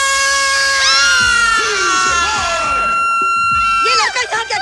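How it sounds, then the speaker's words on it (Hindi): Girls screaming and shouting together in a girls' hostel, a loud sustained chorus of high shrieks with shifting pitches, briefly dipping before another burst of cries. "बस यूं ही चिल्लाई जा रही हो?"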